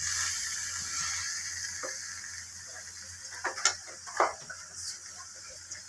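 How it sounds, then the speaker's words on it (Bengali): Nepali Gorkha chutney with raw onion being stirred in a frying pan: a soft sizzle runs throughout while a utensil scrapes and clinks against the pan a few times toward the end, close by. "একটু নেড়ে দিই।"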